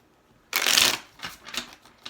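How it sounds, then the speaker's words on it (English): A quick riffle of tarot cards: one dense burst of fluttering snaps, then several softer, separate flicks and taps as the deck settles. Close and clear, no voices. "I'm just going to shuffle a few more times."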